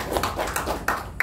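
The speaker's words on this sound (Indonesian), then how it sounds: "Tepuk tangan untuk Bro Jailan" Audience applause for a guest at a company presentation event, a brief burst of scattered clapping with individual claps standing out, fairly close and moderately loud.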